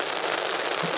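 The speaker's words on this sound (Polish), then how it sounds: "To już nie jest deszcz, to jest ulewa." A heavy rain downpour at an open outdoor gathering pours down as a dense crackling hiss, loud and unbroken for a moment, with a faint voice murmuring underneath.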